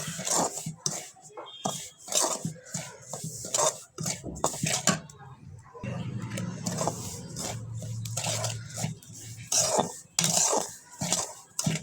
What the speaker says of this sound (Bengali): ঘিয়ের সঙ্গে ভালোভাবে এটা ভেজে নিব।